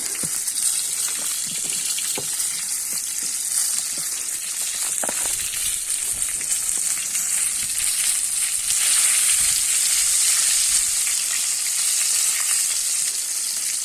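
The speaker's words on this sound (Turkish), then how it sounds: "Balıklarım iyice güzel güzel kızarsın." Fish fry in hot oil over a wood fire, a steady dense sizzle running throughout with faint crackles and occasional stirring or scraping, close and fairly loud with no talk.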